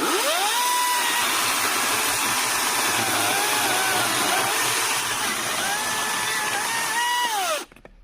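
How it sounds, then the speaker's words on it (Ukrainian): Vitals Professional AKZ 3 cordless chainsaw cutting dry ash wood: a loud, close, continuous motor whine that rises and dips as the chain bites, then cuts off abruptly near the end. "Давайте спробуємо, як воно буде різати сухий ясен."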